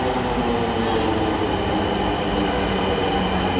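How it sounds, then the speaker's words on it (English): A metro train pulling in, a steady, loud rumble of wheels and rail noise that holds evenly throughout with no voices over it. "Oh, the train is coming."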